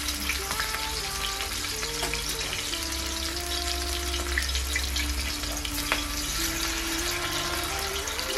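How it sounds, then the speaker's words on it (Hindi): Fish pieces sizzle steadily in hot oil for a green fish curry, a continuous close frying crackle with small pops throughout and no voices. "अब हमारा तेल गर्म हो चुका है। अब हम इसे डालेंगे एक एक करके।"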